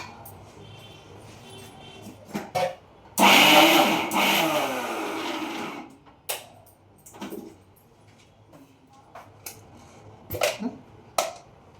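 A kitchen mixer grinder whirs loudly in one sustained burst of about three seconds while grinding coconut for a cabbage and green pea curry, with scattered knocks and handling clatter before and after.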